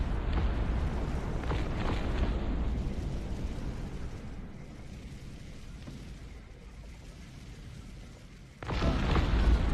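A grenade explosion in the Cossacks: Art of War game rumbles loudly and fades into a long, noisy decay before another heavy burst erupts near the end.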